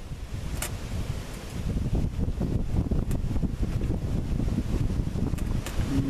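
Gusty outdoor wind during a car oil change, a steady rumbling buffet with intermittent sharper gusts and faint rustling, loud and close throughout, no talking.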